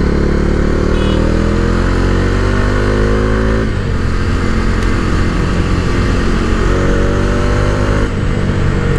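A 2020 Bajaj Dominar 250 motorcycle engine revs loudly while riding, its pitch climbing through a gear, dropping at a shift, then rising again before another shift near the end.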